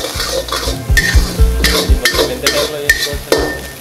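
Jeera rice is fried in a hotel kitchen pan and stirred with a metal spoon, scraping and clanking in uneven strokes over a steady sizzle, close and loud.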